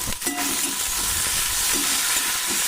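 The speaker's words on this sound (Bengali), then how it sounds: "এবার আমি এর মধ্যে দিয়ে দেবো সিদ্ধ করে রাখা শিমগুলোকে। শিমগুলোকে দিয়ে একটু ভাজা ভাজা করব।" Boiled flat beans with onion, garlic and chili fry in hot oil, giving a loud, continuous sizzle with a brief stirring clatter at the start and no talk.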